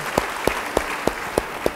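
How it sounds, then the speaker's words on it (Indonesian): At a church service, a congregation claps in a slow, even rhythm of six distinct beats spaced about a third of a second apart, with a soft crowd murmur behind. "Beri tepuk tangan yang baik bagi dia."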